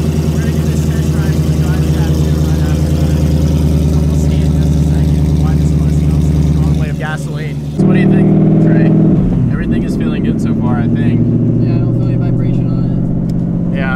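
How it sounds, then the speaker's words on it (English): A car on a test drive after a carbon fiber driveshaft install, its engine droning loud and steady from inside the cabin, a brief dip and shift partway through, with road and drivetrain noise beneath. "we're gonna try out the drive shaft, make sure that everything seems okay. So we're gonna give it a test drive"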